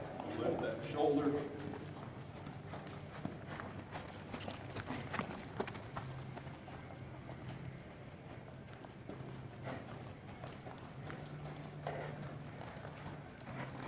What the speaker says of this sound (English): Loosen him up in his trot a little bit.